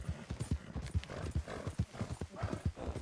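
Horse hooves clip-clopping in the Red Dead Redemption 2 video game, a steady rapid rhythm of close, distinct hoof strikes at a trot, with no voices over them.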